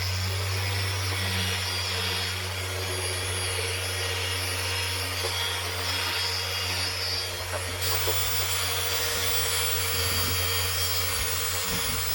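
A power tool polishes a car headlight, giving a continuous close buzzing whir with a steady low hum that holds throughout with slight fluctuations, loud and uninterrupted with no talk.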